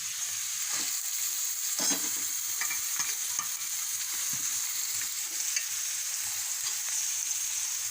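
Chopped vegetables, including carrot, stir-fry in a pan for breakfast pasta: a steady loud sizzle runs throughout, with repeated scrapes and clinks from stirring and no talking.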